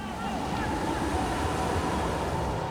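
Sea waves surging onto a sandy beach in a coastal village, a constant churning wash of surf with wind noise, close and loud, and a voice speaking over it.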